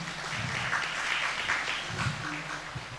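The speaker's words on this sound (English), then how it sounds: "A round of applause, tafadhali." Audience applause at a keynote address for the Pwani Innovation ecosystem, a steady, dense wash of many hands clapping that holds for about three seconds, filling the hall at an even level.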